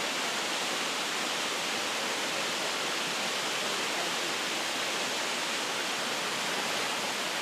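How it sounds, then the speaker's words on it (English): Yukiwa no Taki, a 50-meter waterfall plunging into its basin in a valley in Nanyo, Ehime, Japan, gives a steady, dense rushing roar that stays even throughout with no voices. "This waterfall is the biggest in the valley. Called Yukiwa no Taki, it drops 50 meters into its plunge basin."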